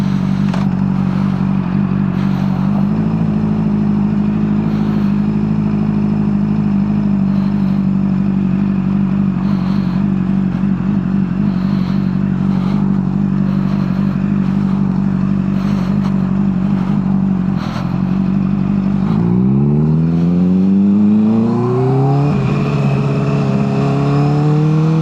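A Honda CBR600RR motorcycle runs at full throttle, its engine holding a loud, steady, buzzing drone for a long stretch, then climbing sharply in pitch through rapid revs near the end.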